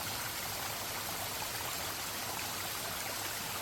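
A forest stream on a trekking trail at Kothaligad flows in a steady, faint hiss of rushing water, even and continuous with no voices.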